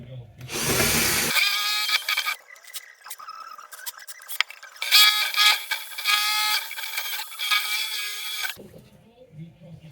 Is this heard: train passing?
no